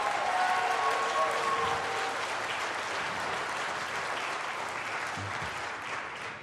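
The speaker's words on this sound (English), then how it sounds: "let me hear a round of applause from you now." Applause from an audience at a school system address, a broad, steady wash of many people clapping together that holds a fairly even level and then eases slightly near the end.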